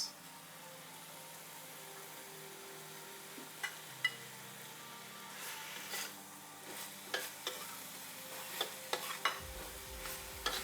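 Runner beans are stirred in a pan for couscous rice with chicken gravy, giving a quiet, soft sizzle with a few light scrapes and clinks that grow more frequent toward the end.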